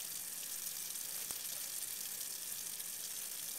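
Water running from a faucet in a microbiology lab sink, a steady faint hiss of flow with no change across the span.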